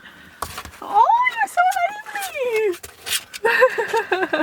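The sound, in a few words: mini dachshund puppy whimpering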